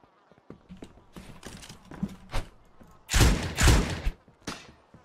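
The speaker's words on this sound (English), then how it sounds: "Who's shooting at us?" Gunfire in the survival game Miscreated: scattered sharp shots and thumps, then two loud, heavy bursts a few seconds in, with quieter clatter between them and no one talking.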